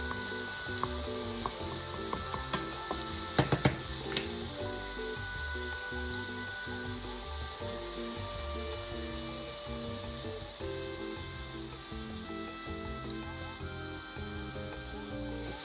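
Lentils, coral and other vegetables sizzle and fry steadily in a pan over medium heat, with occasional scraping stir strokes and a brief cluster of utensil clatter early on, all continuous and close with no talking.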